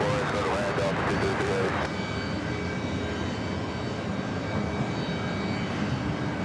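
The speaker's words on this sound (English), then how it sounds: "Next takeoff is Delta Airlines Flight 99 at 64. It looks like a relocation flight heading to Boston, the A330 Neo." Delta Airlines Airbus A330neo jet on its takeoff roll at New York JFK, a loud, steady broadband engine roar that holds from start to end with no letup.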